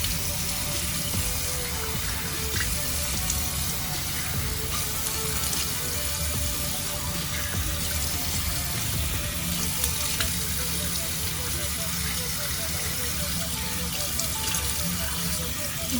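Running tap water washes lash product off in a bathroom sink, a dense continuous splashing stream that stays steady and fairly loud from start to finish.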